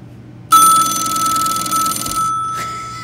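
A telephone rings loudly and close by, an electronic bell-like ring that starts abruptly, holds for about two seconds, then gives a brief second burst, with no voices.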